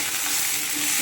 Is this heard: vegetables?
yes